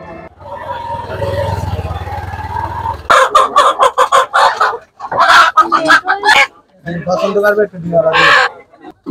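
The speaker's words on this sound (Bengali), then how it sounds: "খাঁচার মধ্যে অনেক মোরগ মুরগি, অনেকগুলো মোরগ মুরগি খাঁচার মধ্যে।" Many chickens and roosters in a cage at a village market, a loud, close din of clucking, squawking and crowing in rapid bursts, with someone talking over the start.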